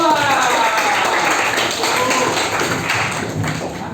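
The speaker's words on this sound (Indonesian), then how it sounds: "Kita kasih tepuk tangan untuk kelompok 2." Students clapping in a classroom for a presenting group during a physics lesson on Newton's second law, a dense, loud patter of hands that runs steadily throughout.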